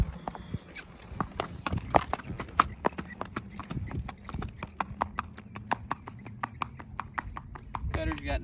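Gaited saddle horse, a seven-year-old mare built like a quarter horse, clip-clopping down a road in a brisk, even four-beat rhythm of crisp hoof strikes, fairly close, with people talking in the background.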